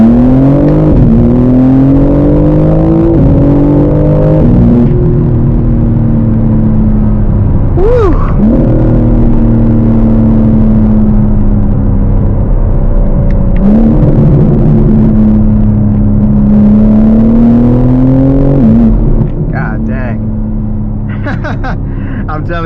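A 2025 BMW M4 CS with a Horizon Motorsport single mid-pipe exhaust accelerates hard, its exhaust roaring loud and close, the engine pitch climbing and dropping through several gear shifts over about twenty seconds.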